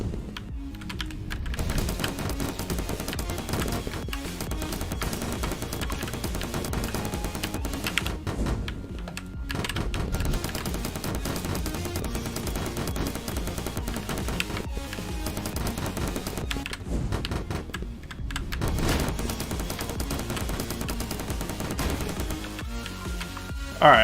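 Rapid rifle and SMG gunfire in the indie video game Final Shot, dense crackling bursts of shots that run almost without a break and pause only briefly between volleys.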